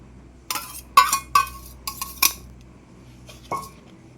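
Utensil clinking against a bowl while curd is mixed into semolina cake batter, a handful of sharp scraping taps in uneven bursts, close and moderately loud with quiet gaps between.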